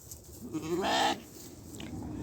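A single sheep on a village farm gives one clear, wavering bleat of about a second, close by, against a quiet rustling background.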